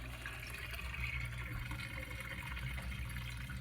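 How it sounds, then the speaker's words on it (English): A Jenn-Air dishwasher drains water over to the kitchen disposal, giving a steady, faint pumping hum and gurgling flow that continues without a break. "Here the water is pumping over to the disposal where it connects down to the drain."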